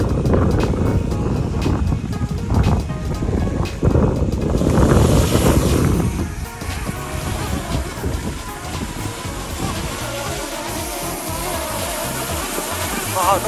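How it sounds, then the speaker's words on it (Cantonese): Strong seashore wind roars and buffets the microphone in loud low gusts that ease after a few seconds into a steadier rush, as a DJI Mini 2 drone is readied for takeoff over the sea. "都真係好大風啊！"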